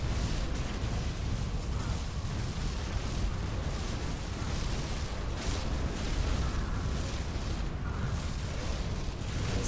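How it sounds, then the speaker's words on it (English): Runic Bolts fire and mines detonate repeatedly against a training dummy in the action RPG Grim Dawn, a dense, continuous stream of rumbling blasts and crackling impacts held at a steady loud level with no talk. "place a mine underneath the dummy and fire away with Runic Bolts"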